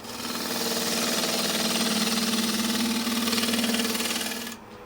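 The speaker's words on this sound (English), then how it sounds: "Just use a scraper a little bit here." A scraper rubs a wooden bowl spinning on a lathe, making a loud, steady rasping whine with a rhythmic flutter. It holds for about four seconds, then drops away abruptly.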